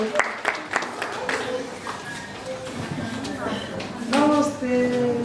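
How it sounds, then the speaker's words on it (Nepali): Audience at a certificate distribution and success party in a hall clapping to welcome a guest on stage, scattered claps building into brief applause, with a person talking over it. "उहाँलाई तालीले स्वागत गरौँ"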